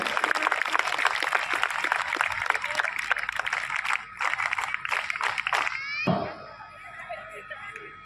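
Sustained crowd applause for a navy band fills the space with dense clapping, fading out toward the end as a thump and lingering room noise follow.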